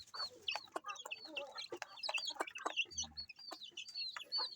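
Silkie crossbreed chicks peeping in high, rapid chirps alongside a hen's low clucking, close and continuous in a farm setting.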